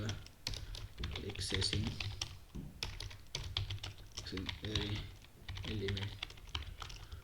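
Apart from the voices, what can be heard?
typing code on a computer keyboard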